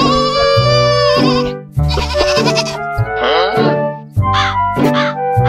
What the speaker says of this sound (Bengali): ছাগল আছে এদিকে, এদিকে আন।